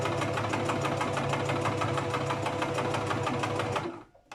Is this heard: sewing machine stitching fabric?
yes